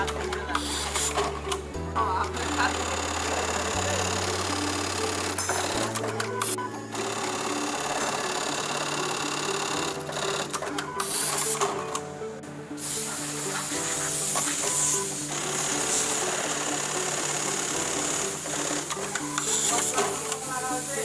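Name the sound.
eyelet button hole sewing machine running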